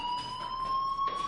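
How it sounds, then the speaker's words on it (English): A fire alarm sounds in the Life Is Strange video game, a steady high electronic tone held for the whole moment with a slight surge near the end, fairly loud and alone. "Hey, do you hear that fire alarm?"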